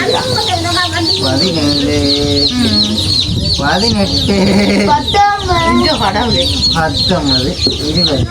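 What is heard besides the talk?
chickens clucking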